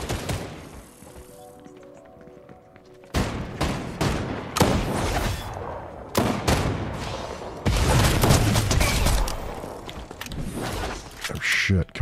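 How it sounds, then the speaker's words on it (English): Video game gunfire in a battle, rapid bursts and volleys of shots cutting in and out over several seconds, loud and close, with game sound in between. "That's a lot of gunshots."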